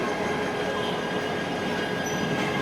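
A train rumbles through Kamalapur railway station in Dhaka, a loud, steady roar of rolling wheels and carriages close by, with faint metallic squeals and no speech.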